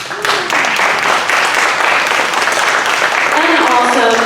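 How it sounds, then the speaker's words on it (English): A summit audience in Monterey/San Benito Counties claps for local nonprofits, a sustained burst of applause with voices and cheering mixed in, loud and close. "These nonprofits deserve a round of applause themselves."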